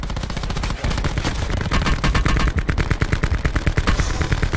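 Rapid automatic gunfire in a shooter video game rattles in loud, dense bursts, the shots coming fast and close, with a brief pause early on before the firing resumes.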